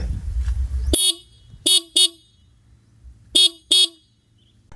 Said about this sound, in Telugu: హార్న్ సౌండ్ కూడా లౌడ్గానే ఉంది, ఒకసారి వినండి.